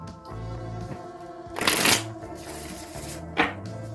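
A deck of oracle cards is riffled and shuffled close up, with two bright bursts of rapid card flutter separated by softer handling over a faint background hum.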